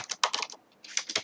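Quick keystrokes rattle on a computer keyboard in two short bursts separated by a brief pause, close and fairly quiet.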